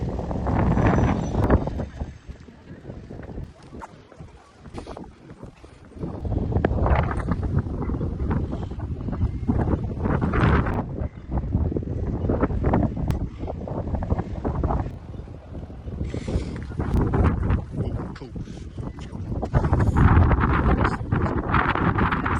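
Wind gusts across the microphone in Mevagissey harbour, a working Cornish fishing village, producing loud, buffeting rumbles that rise and fall in irregular bursts throughout.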